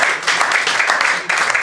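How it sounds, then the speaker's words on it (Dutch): A television studio audience at a Dutch sports show applauds continuously, a dense, steady wash of clapping that stays loud throughout with no talk over it. "En dames en heren, applaus voor deze grootheden."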